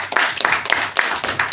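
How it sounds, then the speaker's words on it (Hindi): Audience applause at an RCM business meeting in the Konkan region, a lively round of many people clapping, loud and close, lasting about a second and a half. "तो जोरदार ताली होऊन जाईल"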